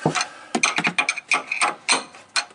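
A ratchet wrench tightens the bolts on Fox 2.0 shocks fitted to a 2011 Toyota Tacoma, giving close, crisp clicking bursts in quick uneven strokes with short pauses between them.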